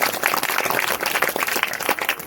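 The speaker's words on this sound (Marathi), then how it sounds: "आणि म्हणून विदर्भ वारकरी सेवा यांच्यासाठी सुद्धा आपण सेवा त्या ठिकाणी टाळ्या द्यायची" An audience at a village kirtan in Shelud claps together in a thick, irregular patter of many hands that rises and dips slightly throughout.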